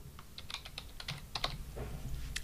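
Computer keyboard keys tapped in a quick, irregular burst while entering an email address on a WordPress migration page, close and fairly quiet with no talking.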